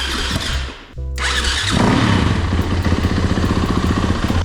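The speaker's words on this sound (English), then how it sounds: "So I'm letting the YZ run" A Yamaha YZ dirt bike engine, running after its dead battery was charged, catches after a brief pause and settles into a loud, close, rapid idle with steady popping beats.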